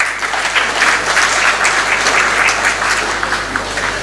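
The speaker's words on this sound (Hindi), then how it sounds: "तालियां उनके नाम।" Sustained applause from a mushaira audience in Patna, a dense, steady clatter of many hands clapping at a constant level for the whole stretch, with no voices over it.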